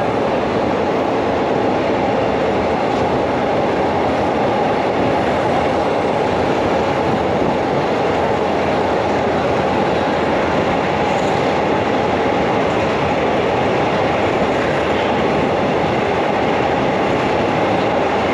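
A train runs toward Ayutthaya station, giving a steady close rumbling roar with a rhythmic clatter of wheels on rails throughout and no voices.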